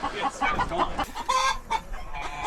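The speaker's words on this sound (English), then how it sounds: "Chickens aren't complaining." Ranch chickens cluck close by in short, irregular bursts with soft throaty calls, fairly quiet, with faint background noise.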